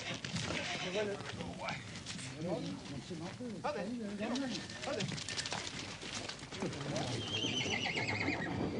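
Horses on Dartmoor at an autumn sale, with foals neighing in repeated whinnies amid hoof clatter and a busy crowd murmur, people talking throughout.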